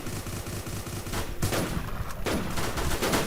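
Rapid gunfire from guns on a Minecraft PvP server, a dense burst of sharp repeated shots with louder cracks near the middle, steady and close throughout with no talking.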